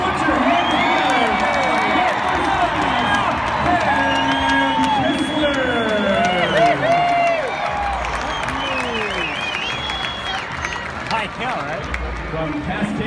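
A large stadium crowd at a college football bowl game applauds and cheers parachute jumpers, with a steady roar of clapping, whoops and shouts throughout.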